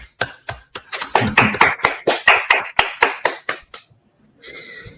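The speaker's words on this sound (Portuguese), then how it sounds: "vamos dar uma salva de palmas" A dozen or so crisp hand claps from one or a few people at a Brazilian undergraduate thesis defense, close and evenly paced, then stopping abruptly before a short burst of faint background noise.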